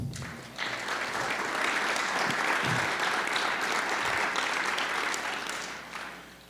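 A church congregation gives sustained applause, dense and loud clapping that fills the room for several seconds before tapering off.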